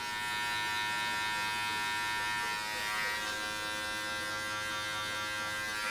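Electric hair clippers fitted with a one guard buzz steadily and close by while fading hair for a low taper, a continuous even hum with no break across the whole stretch.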